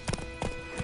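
Horse hooves clip-clop in The Witcher 3 around White Orchard, three distinct close hoofbeat clusters in under a second, evenly spaced like a walking or trotting gait, with no talk over them.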